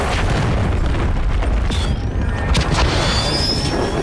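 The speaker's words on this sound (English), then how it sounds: "Hostiles launched a cruise missile." A cruise missile explodes in the Call of Duty MWIII video game, a loud, heavy rumbling boom that rolls on with crackling debris for several seconds, close and dominant.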